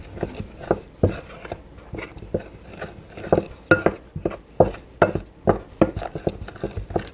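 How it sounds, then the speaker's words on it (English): A whisk scrapes and taps steadily against a bowl, mixing dry zucchini bread ingredients including baking soda and cinnamon, in a quick, even rhythm of close, crisp strokes with no talking. "And I'm going to mix that all up really well."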